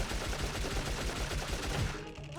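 Rapid gunfire from a character's gun in the video game Dark Cloud, a dense unbroken burst of shots that stays loud for about two seconds and then cuts off.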